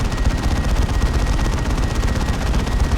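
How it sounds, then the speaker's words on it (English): Continuous heavy bolter machine gun fire in Dawn of War 2, stuck in a sound bug: dense, rapid, loud rattling bursts that never let up, with no talk over them. "I just hear that heavy bolter going the whole time."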